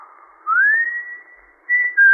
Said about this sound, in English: you could stand in the orchard until you heard him whistle